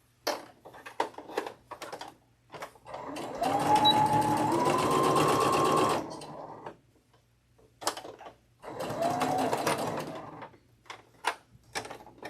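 A sewing machine stitches a quilt block in bursts. Two long runs of fast, close mechanical whirring alternate with short clicks and taps of handling between them, and no voices are heard.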